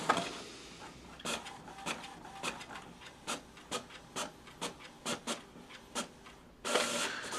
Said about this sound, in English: There's the document straight out of that printer.